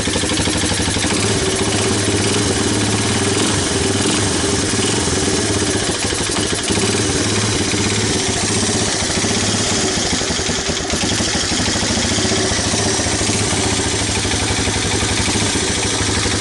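A 1985 Honda Big Red 250ES ATC, cold-started after years of storage, idles continuously with a steady mid-pitched engine drone and faint ticking valve clatter, close and loud throughout.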